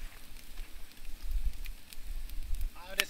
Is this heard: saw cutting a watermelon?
no